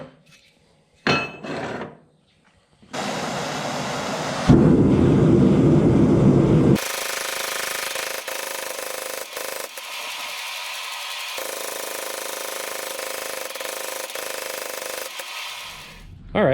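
Hammer blows forging Damascus steel bar stock for puukko knives, a dense run of loud, continuous metallic hammering near the anvil, broken by short pauses and shifts in tone.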